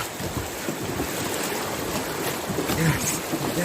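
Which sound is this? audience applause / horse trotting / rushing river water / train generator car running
rushing river water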